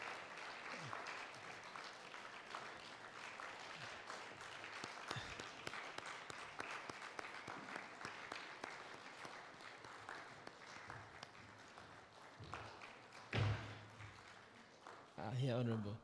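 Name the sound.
audience applauding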